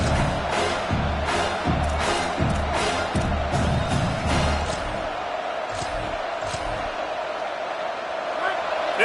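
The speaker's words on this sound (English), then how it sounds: "This crowd trying to make life miserable for this offense" A stadium crowd at a South Carolina vs Florida State college football game roars steadily throughout, with swelling cheers, while a commentator talks over it.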